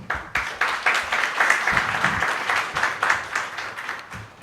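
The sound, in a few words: audience applause at a ministry launch event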